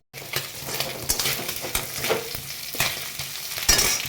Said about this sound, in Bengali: এবারে ভেজে রাখা মাছগুলো চলো মাছগুলোকে ভেজে নিই ভালো